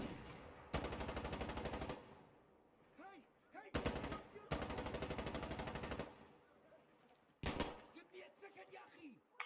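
Automatic gunfire and shotgun blasts in the co-op shooter Insurgency Sandstorm come in long loud sustained bursts separated by short gaps, with players talking between volleys.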